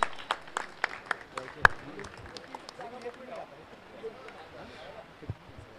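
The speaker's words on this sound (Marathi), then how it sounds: "मित्रांनो, ओमकारचा खेळ आवडला असेल तर एकदा जोरदार टाळ्या" Outdoor crowd at a village cricket tournament prize ceremony clapping for a batsman, sharp scattered claps that thin out, with a voice speaking over them.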